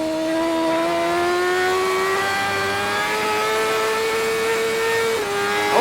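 A BMW HP4 Race superbike engine screams at high revs from an onboard racing position, one loud sustained whine that holds and climbs gradually with a brief dip near the end, no talking.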